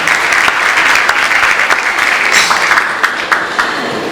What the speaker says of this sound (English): que je vous demanderai d'applaudir s'il vous plaît